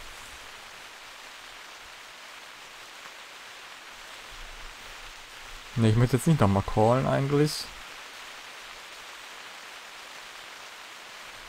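Rain falls steadily in the hunting game The Hunter, a soft constant hiss across the whole stretch, while someone speaks briefly partway through.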